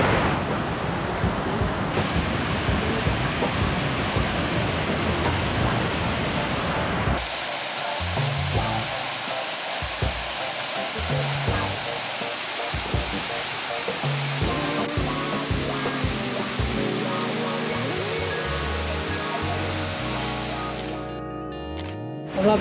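A waterfall near Pa Bong Piang roars loud and close on a drizzly day, a continuous heavy rush of falling water that holds steady for the whole stretch.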